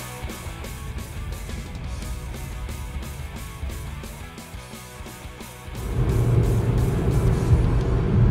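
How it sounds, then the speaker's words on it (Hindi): A Honda City car cruising on the Delhi–Mumbai Expressway toward Jaipur, with a continuous broadband road and engine roar from inside that grows noticeably louder and heavier in the last couple of seconds. "होंडा सिटी गाड़ी से"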